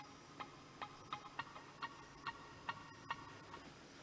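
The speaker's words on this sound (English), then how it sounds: "And muted guitar sounds like this." Muted guitar plucks used as the opening sound of a dance beat, short dampened ticks repeating in a steady, regular rhythm, faint and alone.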